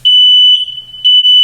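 A smoke alarm set off by a kitchen oven sounds a loud, steady high-pitched beep, briefly dipping before the piercing tone returns at full strength.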